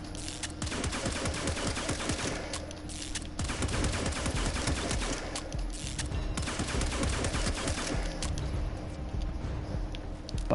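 Rapid pistol fire from the Pandero in Warframe, a loud, dense run of quick shots that pauses briefly a few times before resuming, with no talk over it.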